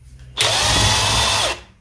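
A power driver whirs steadily for just over a second while backing Allen screws out of the timing cover on a Triumph Trident T150V engine under rebuild, starting and stopping abruptly, loud and close.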